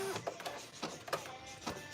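An embroidery machine stitches an appliqué placement line for a letter E, giving a quiet, steady mechanical whir with short rhythmic bursts of needle movement and no talking.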